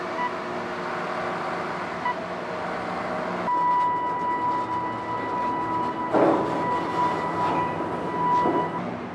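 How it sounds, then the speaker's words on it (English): A heavy remote-controlled scrap bucket train at a steel mill rolls along with a steady metallic rumble, a thin high squeal ringing over it, and a few clanks as it moves. "The scrap bucket train will take it directly into the steelmaking mill."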